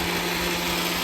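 A mixer grinder runs at full speed, grinding ingredients while cooking on a rooftop terrace, a loud, steady high-pitched motor whine with a constant hum lasting the whole moment.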